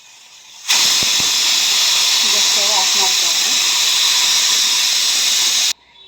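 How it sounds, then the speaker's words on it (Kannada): A pressure cooker cooking vegetable uppittu lets off a loud, steady jet of hissing steam with a wavering whistle, starting abruptly and running about five seconds before cutting off. "ಒಂದು ಕುಕ್ಕರ್ ಕುಗ್ಸೋಣ"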